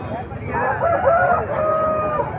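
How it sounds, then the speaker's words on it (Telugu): A Kaki Nemali rooster crows at a busy livestock market in Rayachoti, Kadapa district, one long rising and falling call lasting about two seconds over a steady crowd murmur. "వీడియోలో కనిపిస్తుంది కాకినేమిలి పుంజు"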